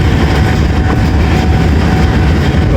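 Locomotive GU20 4556 hauls the Baba Fareed Express out of Lahore with a loud, steady, close rumble and rolling rail noise that holds unbroken throughout.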